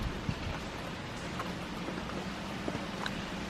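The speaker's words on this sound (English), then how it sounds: "Well, it is a rainy Saturday morning." Rain falls on a garden on a wet Saturday morning, a soft, steady patter with scattered louder drops, fairly faint and uninterrupted, with no voices.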